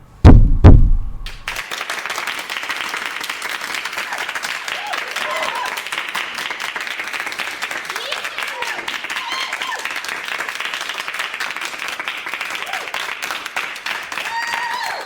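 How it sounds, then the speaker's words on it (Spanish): Sustained applause and cheering fill a courtroom after a verdict, a dense, even roar of clapping that follows a few heavy thumps at the start and holds steady throughout. "Los vítores y aplausos inundaron la sala"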